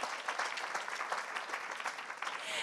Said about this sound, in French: Ah bah alors on peut les applaudir.